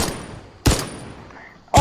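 Gunshots in Fortnite: two sharp, loud cracks about a second apart over a steady background hum of game noise, the first shot trailing off with a short decay.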